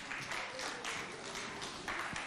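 Faint, steady applause from an audience at a school event, a soft continuous patter of many hands clapping with no clear pauses.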